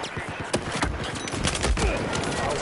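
Rapid automatic gunfire from a Battlefield 4 match on PlayStation 4 crackles in dense, overlapping bursts, loud and close, with distant shots mixed in and players talking.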